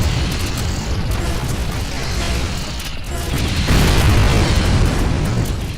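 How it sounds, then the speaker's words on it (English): Explosions from the player's own explosives in an alien-invasion flight game, a sustained rumbling blast that swells louder toward the end, dense and continuous with no talking. "This is the leading cause of death in the early missions, your own explosives."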